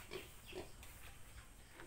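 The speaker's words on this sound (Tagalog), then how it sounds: "Ito ang aking baboy gubat." A tame wild boar sow, a gentle breeding female, gives a series of soft, low grunts, four or five short snorts at an even pace, faint and close, with no talk.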